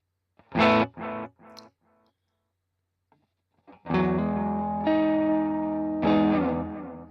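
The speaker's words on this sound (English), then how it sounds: "And now let's kick on the delay." Electric guitar played through a pedal chain with compressor and delay switched on, a few short clipped notes then sustained ringing chords with repeating echoes, loud and alone.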